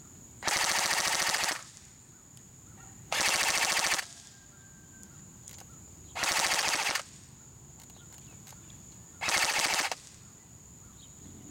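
A G&G GR16 CQW blowback airsoft rifle fires on full auto outdoors in four separate bursts, each about a second long, sounding as a rapid mechanical rattle with quiet pauses between bursts.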